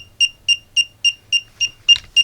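A power module's over-wattage alarm beeps eight times in a steady, evenly spaced rhythm, sharp and close, the final beep slightly rougher.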